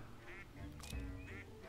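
Ducks quack in the VR hunting game Legendary Hunter on HTC Vive, a few short nasal calls close together over a low, steady game background.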